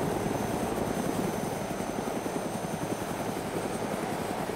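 A helicopter flies in a video game, its rotor chop and engine drone steady, loud and close throughout, with no voices over it.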